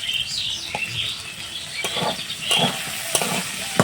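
Chopped onion and tomato hit a hot frying pan with potatoes, giving a close, bright sizzle with scattered spattering pops and stirring scrapes, and no talking.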